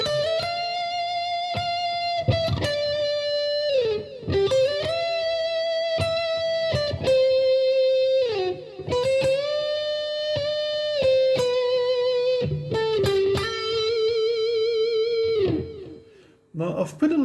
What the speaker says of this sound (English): Now I've put a little bit of delay on there to give a bit of depth. You can hear the echo in the background there